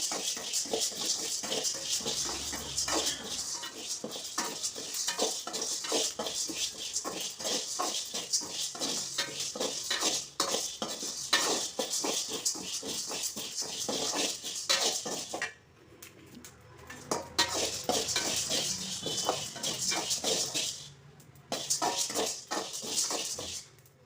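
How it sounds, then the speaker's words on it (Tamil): Urad dal, chana dal, curry leaves, cumin and pepper dry-roasted and stirred in a pan for a dried-fish podi, a continuous rapid scraping and rattling of a spoon against the pan, close and steady, with brief pauses. "உளுந்து கடலப்பருப்பு கருவேப்பிலை சீரகம் மிளகு போட்டிருக்கோம் இப்போ இவங்களும் நல்லா வறுபட்டாங்க"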